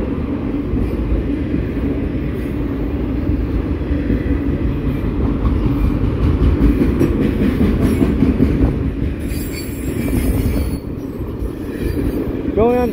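A Norfolk Southern mixed freight train with a Conrail locomotive rumbles past in Elkhart, Indiana, loud and close, with continuous rolling wheel noise, clacking over rail joints and occasional wheel squeal near the end.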